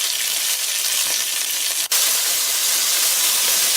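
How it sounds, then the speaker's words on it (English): Garlic and vegetables fry in a pot for braised chicken, producing a loud, dense, continuous sizzle with a brief dip partway through. "I'm going to go ahead and add my garlic and then cook these for just a couple of minutes"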